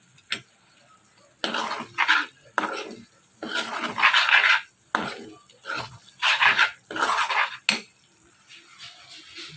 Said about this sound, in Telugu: ఈ విధంగా మసాలాలన్నీ వేసుకుని బాగా కలుపుకోవాలి